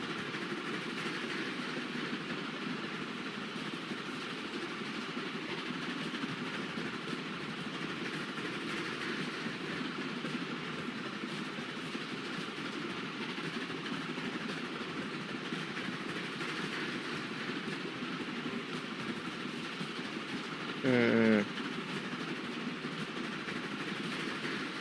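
A logging train in the video game Transport Fever 2 rolls along with a steady, moderately quiet rumble and a clickety-clack of wheels that lasts throughout, broken near the end by a brief sharp sound.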